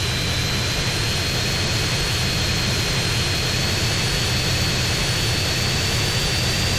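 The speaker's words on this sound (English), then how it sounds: "Handled this jet like a true professional." Steady, loud roar of a jet engine as a jet flies in GTA San Andreas Definitive Edition, a continuous broadband rumble with a thin high whine running throughout, no voices.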